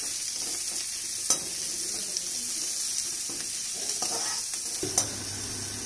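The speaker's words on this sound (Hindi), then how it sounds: "इसमें मैं ये डाल दूंगी प्याज, ये 2 प्याज मैंने काट लिए हैं।" Two chopped onions frying in a pan, a continuous bright hiss of sizzling oil with a few soft stirring clicks and scrapes scattered through it; no voices.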